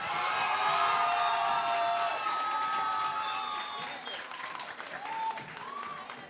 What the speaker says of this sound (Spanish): solo aplausos, nada de gritos